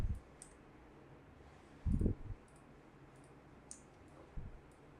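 Computer mouse clicks while selecting parts in Autodesk Maya: a few sharp, isolated clicks spaced irregularly over quiet room noise, with no talking.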